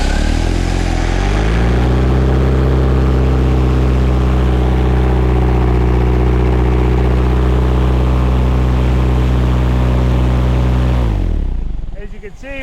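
A barn-find Camaro IROC-Z engine, sitting since the 90s, climbs to full RPM and holds a loud, steady high rev for about ten seconds before cutting off abruptly.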